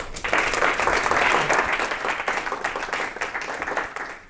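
Audience applause welcoming C. W. Anderson before an evening talk on data journalism, a dense steady clapping that swells early, stays loud for several seconds and then thins slightly toward the end.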